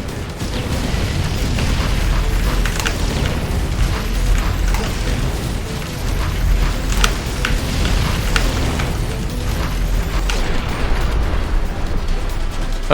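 Continuous dense rumble of bombs exploding amid battle noise in the tower-defense shooter X-Morph Defense, with steady booms, crackling bursts and mechanical clatter piling up loudly without pause.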